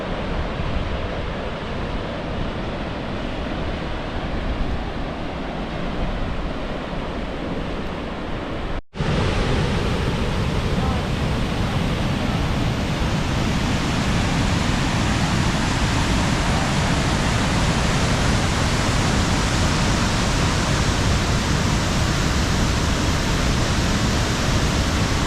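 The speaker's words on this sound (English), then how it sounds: "That's a big waterfall." Large waterfall in Iceland roaring as a steady, dense wash of broadband water noise, loud and continuous with a brief dropout partway through, no voices.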